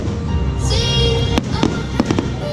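Fireworks at a Sesame Place birthday celebration in Langhorne, several sharp bangs and crackles popping over a busy background of music and crowd noise, fairly loud.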